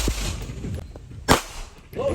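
A single sharp gunshot at an outdoor shooting range cracks loudly and close midway through, with people talking before and after it.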